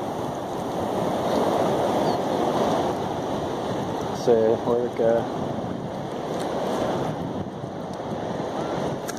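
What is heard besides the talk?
ocean waves washing over the beach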